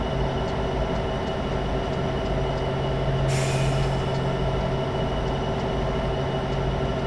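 BNSF SD75 freight locomotive idling in Train Simulator 2016 while the train is coupled up, a steady low diesel drone with a short hissing air-brake release partway through.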